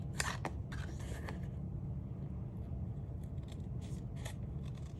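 Scissors cut paper for a floral journal, with several short crisp snipping bursts close by against a low constant background rumble.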